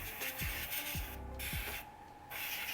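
Spray hisses across a painted craft piece to dust it off: a steady, fairly close broadband hiss with brief gaps, no voices.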